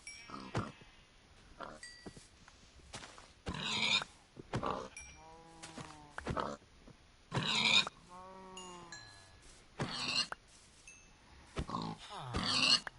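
Pigs in Minecraft grunt repeatedly and loudly, with short oinks and harmonic squeals spread unevenly through the stretch alongside other blocky game noises.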